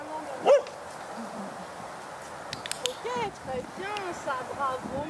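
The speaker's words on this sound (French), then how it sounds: "il y a 2 chiens qui aboient là par exemple" Two dogs bark and yip off and on at a dog behaviour training session, sharp barks at moderate distance amid quieter whimpers and background activity.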